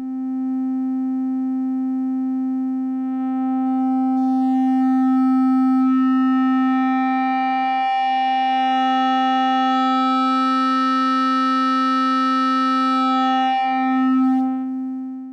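A Korg volca Modular oscillator holds a steady, loud tone alone, with wave folding gradually adding bright upper harmonics that swell and shift before easing back, briefly dipping twice.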